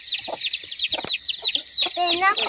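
Chickens cluck and chirp close by in short repeated bursts over a constant high hiss, with a rising squawk near the end.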